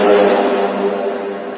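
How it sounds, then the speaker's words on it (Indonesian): A motorcycle engine passing nearby, loud and droning with a steady rumbling buzz that fades slightly toward the end, heard alone without talk. "nah ada motor lewat ya"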